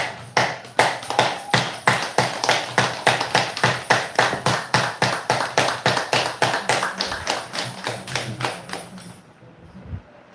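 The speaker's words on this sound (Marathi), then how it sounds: "टाळी अशी वाजवूया की जेणेकरून त्या टाळीचा आपल्या आरोग्यावरती परिणाम होईल" A person claps palm against palm to stimulate acupressure points, a long run of sharp, evenly spaced claps at a brisk steady rhythm, close and loud, fading out near the end.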